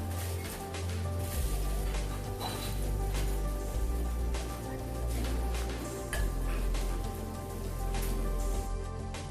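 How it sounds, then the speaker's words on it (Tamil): Water bubbling and spattering at a rolling boil in a pot, a dense crackling patter with a low rumble underneath, steady and close. "நல்லா கொதிக்குது பாருங்க"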